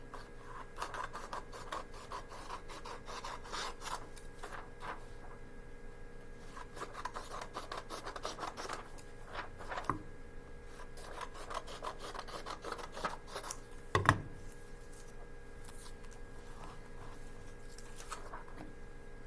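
Paper trimmed for a notebook page, heard as a long run of close, dry rasping and scratching cuts in an irregular rhythm, with one sharper snip or tap near the end, no voices.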